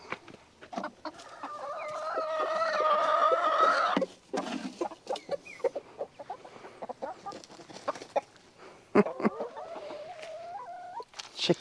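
Chickens cluck and chatter in a backyard flock, a nearby bird giving a drawn-out rising call early on, followed by scattered short clucks and squawks with some brief crackling noises between them.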